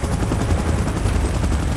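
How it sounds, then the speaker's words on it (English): A helicopter in the video game PUBG Mobile during a Godzilla and Kong event, a loud, steady rotor drone with a thick low rumble that holds without a break. "Chopper in position."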